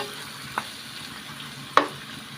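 Pork and tomato fry in a pan with a low, steady sizzle, broken by two brief scraping clinks as the mixture is stirred.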